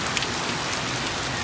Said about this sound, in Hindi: बहुत ज्यादा बारिश है, बहुत ज्यादा बारिश है।